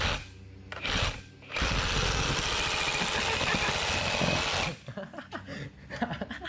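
A reciprocating saw cuts into a KBD bumper: a loud, continuous buzzing rasp runs steadily for about three seconds after a brief opening burst, then stops, leaving people talking.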